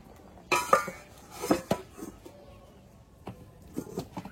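Pot of cooked rice handled as the starch water is drained off, with a few close metallic clanks and clinks of the pot and lid against each other, scattered irregularly and fading into quieter taps.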